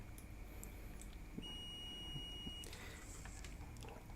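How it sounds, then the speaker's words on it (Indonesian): An avometer's buzzer in diode mode gives one steady electronic beep lasting about a second as the probes touch, faint against a low background hum. "ketika probe-nya disatukan itu akan terdengar bunyi buzzer"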